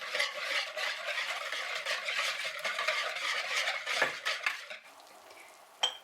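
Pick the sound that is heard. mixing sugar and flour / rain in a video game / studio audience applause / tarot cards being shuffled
mixing sugar and flour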